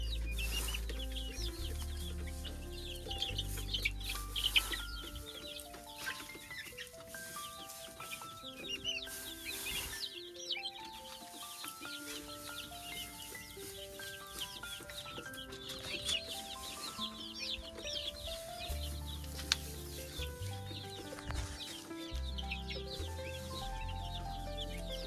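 Chickens cluck and call softly, scattered across the recording, on a pig and poultry farm in Kokrajhar. The calls sit quietly beneath steady background music.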